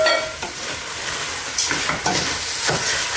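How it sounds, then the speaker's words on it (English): A spoon stirs rice into a beef pilau mixture in a pot, giving a steady low sizzle with soft scraping strokes and a few brief clinks against the metal, close and without talk. "Continue stirring it inside the mixture so that the pilau mixture gets into the rice."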